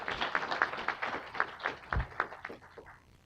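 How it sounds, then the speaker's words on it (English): A small audience at a First Amendment event claps at moderate distance, producing a steady patter of fairly faint, irregular hand claps that thins out toward the end. "let's give them a round of applause"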